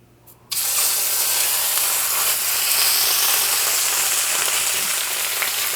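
A pot roast beef chunk lowered into a skillet of generous hot oil, bursting into a loud, sudden, sustained sizzling hiss after a brief quiet moment, staying strong and steady.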